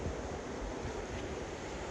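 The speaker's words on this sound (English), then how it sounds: "Waterfalls." Waterfalls beside a trail bridge on the walk to the Millennium Caves in Vanuatu, heard as a steady, dense broadband rush of falling water that stays loud and unbroken throughout, with no voices.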